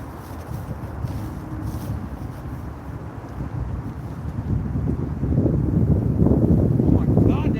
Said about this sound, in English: Oh my God, that wind.